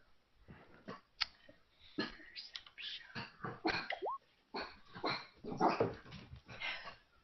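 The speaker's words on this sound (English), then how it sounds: "I hear a dog." A dog barks and yips in a Roll20 Dungeons & Dragons game sound effect, a run of irregular barks with a whimper, fairly faint and unaccompanied by talk.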